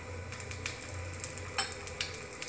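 Drumstick-flower chila frying in mustard oil in a pan, a faint, steady sizzle close by, broken by a few light clicks and taps of a utensil over a low hum.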